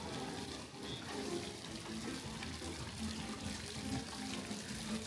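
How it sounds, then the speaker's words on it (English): Steady splashing of a small waterfall into a cruise ship pool, a continuous rushing wash that stays even throughout, fairly soft and without voices. "Has like a little waterfall."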